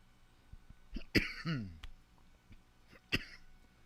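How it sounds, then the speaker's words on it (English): Two sharp coughs after vaping, close by, separated by a voiced throaty sound, against a quiet background. "I normally don't cough like this when I vape"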